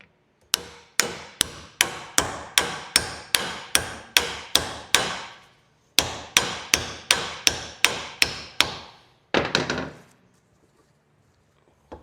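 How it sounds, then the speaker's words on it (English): Heavy hammer blows drive an axle shaft into a rear differential: two close, steady runs of about a dozen sharp metallic strikes each, separated by a pause, ending in a rougher scraping clatter, with no talking. "Just let me hammer it down."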